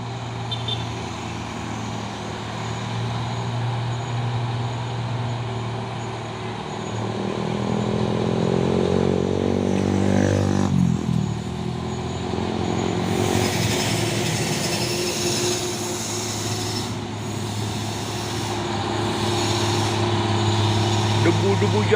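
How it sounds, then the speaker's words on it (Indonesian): A brown Fuso trailer truck climbs a road in the right lane with a loud, low diesel drone that swells and shifts as it passes. Someone talks over the engine noise. "Wih, truk Fuso coklat ini ha."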